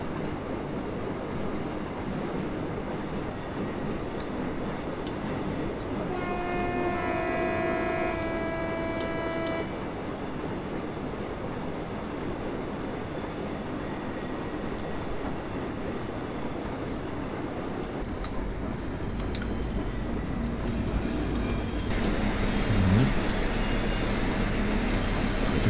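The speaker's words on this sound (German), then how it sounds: "Das Ding rollt hier gerade über die Schienen wie so ein richtiger Panzer." A Vossloh G6 shunting locomotive in Train Simulator 2020 rumbles steadily over the rails around Hamburg harbour, with a continuous low engine drone, sustained high wheel squeal and short electronic tones, someone talking now and then over it.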